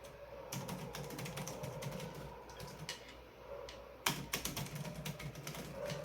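Rapid clicking of keys on a computer keyboard, a close, fairly dense run of keystrokes with a brief pause near the middle before a louder burst resumes, no voice over it.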